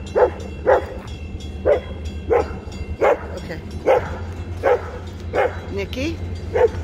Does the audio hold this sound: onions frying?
no